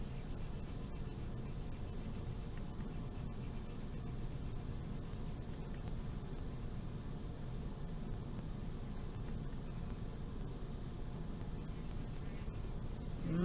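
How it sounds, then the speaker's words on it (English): A crayon is rubbed lightly back and forth across paper to fill in a landscape drawing, making a steady, close, soft scratching that continues without pause and without talking. "once you're done coloring that section, put your crayon up"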